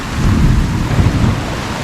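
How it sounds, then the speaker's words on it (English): Heavy rain pours down during a hurricane-season storm at the Grand Memories Santa Maria resort in Cuba, a loud, dense, close roar with low rumbling like thunder running steadily throughout, no voices. "I don't know if you can hear the rain coming down"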